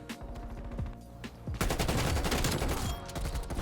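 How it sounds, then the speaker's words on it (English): KRIG-6 assault rifle firing in Call of Duty, repeated rapid shots in bursts, growing into dense, loud continuous automatic fire with other gunfire in the latter half. "using this beautiful KRIG-6 assault rifle with that diamond camo"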